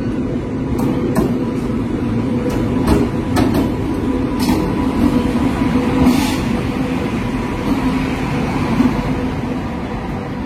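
The Kaveri Express passenger train, bound for Bangalore, rolls along with a steady loud rumble, rhythmic wheel clatter and occasional sharp clicks and squeaks, heard close up for about ten seconds.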